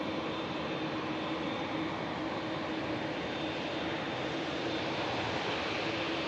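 Singapore Airlines airliner on final approach at Manchester Airport, a steady broadband jet engine roar held at an even level throughout, with no voices.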